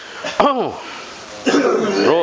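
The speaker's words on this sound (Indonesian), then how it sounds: "Terus, batukin mas." During a ruqyah healing session, a person coughs and retches in strained, voiced bursts, two main episodes close to the microphone with rough throaty tails.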